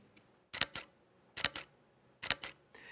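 Nikon D500 DSLR shutter in quiet release mode, the mirror moving more slowly: three soft double-clicks a little under a second apart, each a muffled paired clack, close and quiet, with a faint extra click at the end.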